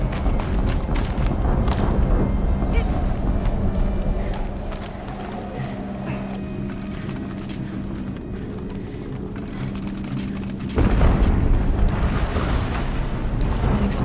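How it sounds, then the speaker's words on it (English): A continuous roaring rumble from an explosion in the video game Gaia Prime, dense and loud throughout, easing slightly midway before a fresh surge of blast noise near the end. "An explosion."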